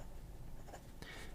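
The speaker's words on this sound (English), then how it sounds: "let me first write with a Bock nib" An Asvine V200 fountain pen with a Bock nib scratches briefly across paper, a soft close scratching with a slightly sharper stroke near the end.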